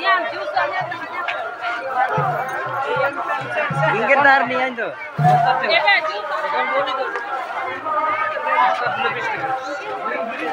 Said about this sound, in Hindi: देख सकते दोस्तों, भीड़ है।